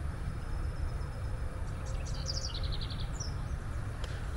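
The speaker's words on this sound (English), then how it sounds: "by the sound of the birds" Outdoors at a shopping center, with a hill blocking the nearby freeway, a few faint bird chirps and short trilling calls sound over a constant low hum of distant traffic.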